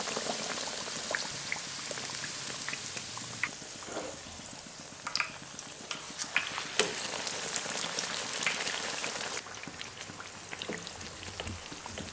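Naan with gram flour (besan) spread on one side frying in hot oil, a loud continuous bubbling sizzle with crackling pops throughout, close and steady without talk.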